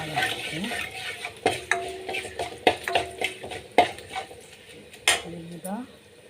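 Food frying in a pan for a tomato chutney, with a soft sizzle under repeated metallic scrapes and clanks of a spoon against the pan, close up.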